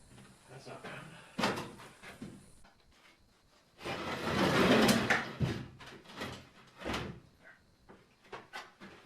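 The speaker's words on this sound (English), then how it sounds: "The door shut." A house door is opened and shut, giving several wooden knocks and clunks with a longer rattling scrape in the middle, close by, amid brief talking.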